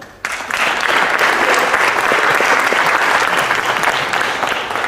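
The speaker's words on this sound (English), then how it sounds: "let's do applause" Applause at a boys' state talent show bursts in abruptly and holds as a loud, dense wash of clapping from a large audience, easing slightly near the end.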